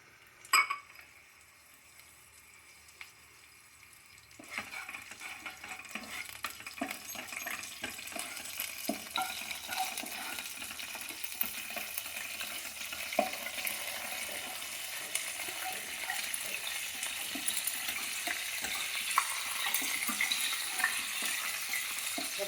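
Chana dal, mustard seeds, cumin and curry leaves fry in hot oil for beetroot palya, a steady close sizzle building after a quiet start, with occasional clinks of a spoon against the pan.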